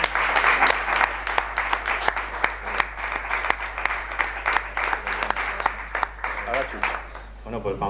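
Audience applause after a poetry reading at an Art Nouveau event in Novelda, a steady burst of clapping filling the room for several seconds before thinning toward the end, with some voices mixed in.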